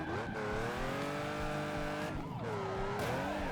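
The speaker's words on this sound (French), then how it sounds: "on va garder cette bagnole et on va faire une scène de course-poursuite stylée." A car races along during a police chase in the video game Turbo Dismount, its engine holding a steady high whine that rises and falls with gear changes, alongside brief tyre squeals, loud and continuous with no speech.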